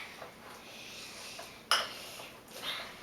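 A metal spoon stirs cream cheese dip with agave in a bowl, giving soft scraping and a sharp clink against the rim, faint and close.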